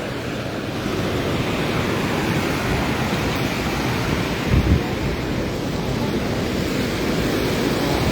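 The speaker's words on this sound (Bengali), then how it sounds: "পানি নামতেছে যথেষ্ট পানি নামতেছে" Floodwater draining through the Muhuri project sluice in Feni, Bangladesh, a broad steady rushing roar with wind buffeting the microphone and a brief louder gust partway through.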